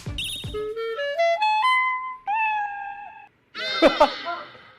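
A person imitates a contented kitten greeting its owner in a guessing game, producing a few rising, melodic meow-like vocal tones followed by a brief, louder burst, all close to the microphone.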